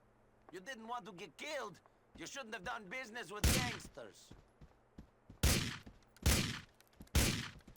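Gunshots from the GTA 4 video game ring out as several loud, sharp blasts in the second half, spaced a second or so apart, following stretches of talk.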